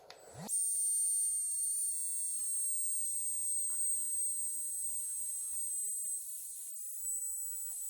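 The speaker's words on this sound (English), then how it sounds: "So you just twist the nozzle and put it on the top. And now it'll remove the air." An Etenwolf electric air pump deflating through its nozzle gives a steady, close, high-pitched motor whine over a constant airy hiss, starting abruptly and running evenly to the end.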